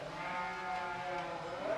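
Sheep bleat softly on a Tuscan hill farm where they are fed and milked, a faint, steady wavering cry from the flock with no talk over it.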